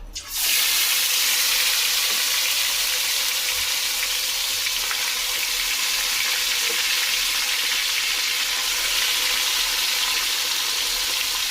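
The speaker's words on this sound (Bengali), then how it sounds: "এবারে এখন আমি মাংসটা দিয়ে দেব" Chicken pieces sizzle loudly in hot oil in a pan for a home-style red chicken curry, a dense steady frying hiss that starts abruptly and continues unbroken and close throughout.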